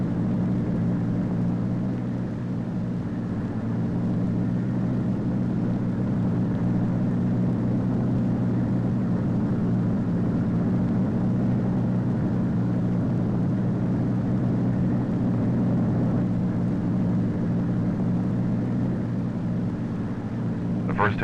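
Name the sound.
Convair XF-92A delta wing aircraft taking off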